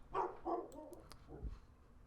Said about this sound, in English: And in the background, that is my dog going off